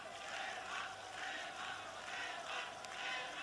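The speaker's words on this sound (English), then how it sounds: "the Olympic Stadium giving its applause to the Greeks" A distant crowd at the Olympic Stadium during the 1980 European Championship football match between Greece and Czechoslovakia gives a steady, low, even roar of applause, heard faintly without any voice over it.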